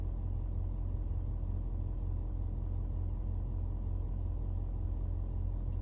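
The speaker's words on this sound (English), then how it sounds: "If I keep quiet with just the engine idling" A 2022 Ford F350 Tremor idling, heard from inside the cab: a steady low engine rumble with a constant drone, even and unbroken, with no talking.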